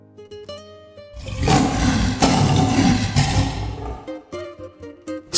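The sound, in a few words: Nemean lion roaring, storytelling sound effect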